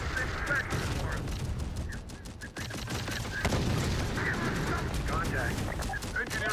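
Gunfire in the Terminator Dark Fate Defiance video game, dense bursts of rapid shots crackling in a continuous fusillade, with shouted battlefield voices mixed in.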